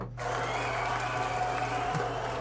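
Steady applause and cheering fill the whole stretch as a continuous wash of clapping, moderately loud and unbroken, with no voices on top.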